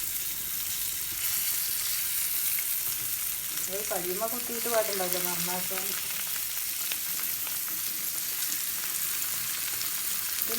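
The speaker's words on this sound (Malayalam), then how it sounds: "മീൻ വറുക്കട്ടെ കേട്ടോ" Small bony mullan fish frying in a pan at home, a steady close sizzle and crackle running throughout, with someone talking briefly over it midway.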